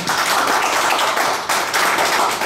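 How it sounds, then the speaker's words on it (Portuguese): Meeting attendees at a union representatives' gathering applaud a candidate, a steady, dense wash of hand clapping that holds for a couple of seconds with slight swells and no voices over it. "peço uma salva de palmas ao candidato"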